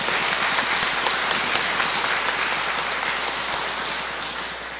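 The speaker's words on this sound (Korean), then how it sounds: "감사의 박수 한번 보내주십시오." An audience at a lecture breaks into dense, continuous applause, a broad wash of many hands clapping together that holds steady and fades slightly toward the end.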